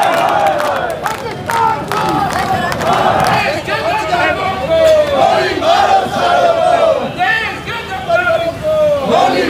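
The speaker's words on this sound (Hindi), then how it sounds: "विश्व हिंदू परिषद के द्वारा यहाँ पर पाकिस्तान मुर्दाबाद के नारे लगाए जा रहे हैं" A Vishva Hindu Parishad protest march crowd chants anti-Pakistan slogans in loud, rhythmic unison, many voices shouting close and overlapping in repeated call-and-response bursts.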